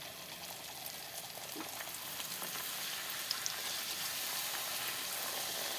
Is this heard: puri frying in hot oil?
yes